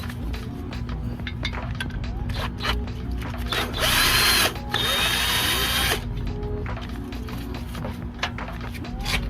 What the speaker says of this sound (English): they're all finger loose right now, so I'm just gonna hit it with this drill